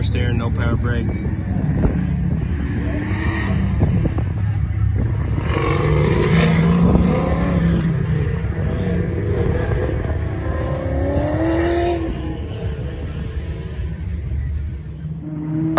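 A 1964 Ford Falcon, with no power steering or brakes, runs on a road course at the Power Tour. Its steady engine rumble and drone continue throughout, with someone talking over it most of the time.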